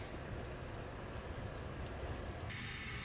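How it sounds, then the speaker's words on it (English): Steady morning rain falls around a campsite among redwood trees at Limekiln State Park in Big Sur, a dense continuous patter and hiss close by with no voices. "It's raining this morning."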